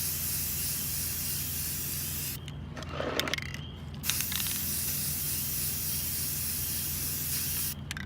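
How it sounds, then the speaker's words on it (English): Spray paint can coating a cup with a satin finish, a loud continuous hiss that runs steadily, breaks briefly with a short pause and rattle, then resumes until near the end. "It's a little hard to spray paint when you can't really see with the camera."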